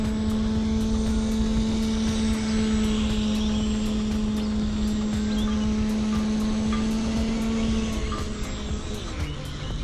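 A small RC model plane's electric motor drones steadily through test-flight aerobatics, a loud continuous propeller whine that holds pitch and then drops near the end as the plane spirals down.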